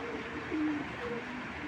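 A Belgian racing pigeon gives a few soft, low coos, faint and close, over a steady background hum.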